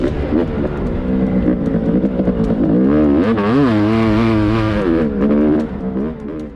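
A brand-new 500cc two-stroke motocross bike screams at full throttle down a back straight, its loud, close engine note sustained and wavering in pitch as it holds wide open before dropping off near the end.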